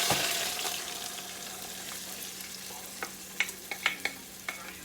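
Creamed corn sizzles in a Dutch oven on the stovetop, a broad hissing fry that settles after an opening burst, then a few light clicks and stirring taps toward the end, close with no talking.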